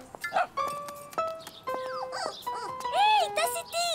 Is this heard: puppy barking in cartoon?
yes